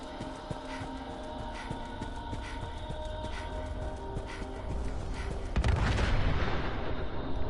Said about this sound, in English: Not sure what caused that explosion.